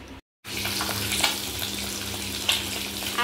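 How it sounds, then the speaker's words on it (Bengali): Fish sizzling as it fries in a pan in a home kitchen, a steady crackling hiss, close and fairly loud, after a brief silence at the start, with no talking. "মাছটাকে ভাজতেই দিয়ে দিলাম"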